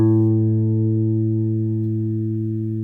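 A guitar's second string holds one sustained reference pitch for tuning, clear and steady, slowly fading over about three seconds with nothing else heard.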